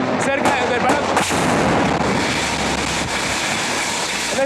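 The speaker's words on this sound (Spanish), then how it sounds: "Exactamente en este momento está cayendo uno de los cohetes cerca del Palacio." A rocket strikes near Miraflores Palace during an air attack, with a couple of sharp blasts early on over a continuous loud roar of rumbling, wind-like noise.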